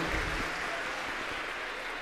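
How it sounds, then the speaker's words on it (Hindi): A crowd at a Hindu religious discourse gathering applauds, producing a dense, steady wash of clapping that holds loud for about two seconds. "जिनके लिए एक जोरदार ताली बजाएं"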